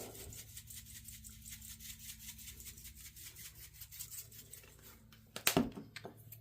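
Black pepper shaken from a shaker onto raw chicken wings before air frying, a quiet, rapid rhythmic rattle close by, ending in a brief louder clatter.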